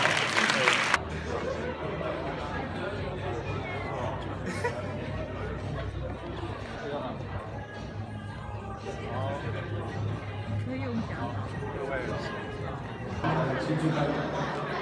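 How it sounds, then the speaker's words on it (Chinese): An audience at a high school gathering applauds with a dense, steady patter of clapping mixed with crowd chatter, sustained through the whole stretch at moderate loudness. "那也替自己鼓掌吧"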